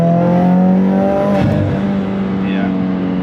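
Subaru WRX engine running loud and close with a steady droning hum and harmonic whine, a brief dip and swell as the gas is pressed, with someone talking over it.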